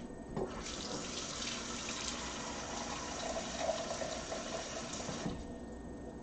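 Tap water runs steadily from a kitchen faucet into a measuring cup for cupcake batter, a continuous close rushing stream that starts and stops cleanly with no talking over it.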